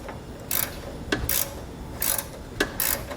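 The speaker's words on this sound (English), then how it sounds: "So we'll use our wrench to tighten the nut first" Wrench ratcheting as it tightens 19 mm nuts on Fastway e2 weight distribution hitch brackets, with repeated pairs of quick metallic clicking strokes in a steady back-and-forth rhythm, close and alone.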